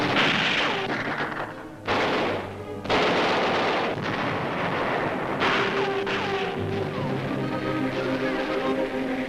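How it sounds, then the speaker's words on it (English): A tank hits a Japanese mine during fighting on Angaur Island in the Second World War: loud, heavy booms and rumbling blasts come in bursts, mixed with gunfire-like cracks across the whole stretch, with no voices. "A tank hits a Japanese mine."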